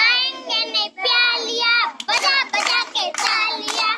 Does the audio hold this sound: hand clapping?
yes